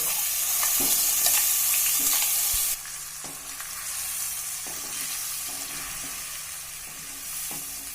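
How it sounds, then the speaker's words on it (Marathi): Ground gravy paste for a fenugreek-spinach kofta curry sautéing in a pan, a steady sizzle with repeated scraping strokes of a spoon stirring, close and continuous, no voices. "आता हे जे वाटून घेतलंय आपण ग्रेव्हीचं वाटण ते घालणार आहे आणि आपण चांगलं परतून घ्यायचं आहे"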